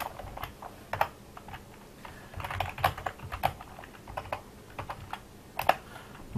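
Fast, irregular clicking of computer keyboard keys being typed on, close and fairly quiet, with short bursts and brief pauses and no voices.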